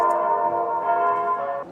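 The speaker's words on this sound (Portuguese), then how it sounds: "Os sons do sino ecoaram pela cidade." Church bells ring out during a festival at a packed sanctuary in the interior of São Paulo, a loud sustained metallic hum with layered ringing tones that hold steady and then slowly fade.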